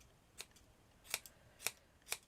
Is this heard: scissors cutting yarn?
yes